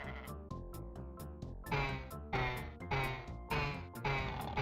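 Goats bleat repeatedly in a SNES video game, the synthesized bleats looping in a fast, regular pattern over busy game music, loud and close with no talking.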